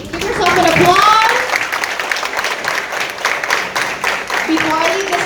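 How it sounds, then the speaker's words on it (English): Audience applause fills the room at the close of a motivational stage talk, a dense steady wash of many hands clapping that swells loudest early and then carries on evenly throughout. "Give yourself an applause."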